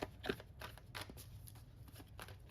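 Tarot cards being shuffled by hand, a soft, close riffle of several quick papery flicks and slaps in short bursts, fairly quiet with no voice.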